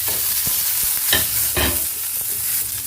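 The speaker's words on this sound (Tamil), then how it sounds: "அதுக்கப்புறம் நெக்ஸ்ட்டு வெங்காயம் போட்டுக்கிறோம்." Onions stir-fry in hot oil with fennel and curry leaves for a pumpkin kootu, a steady close sizzle broken by a few sharper scraping stirs of the spoon, with no voices.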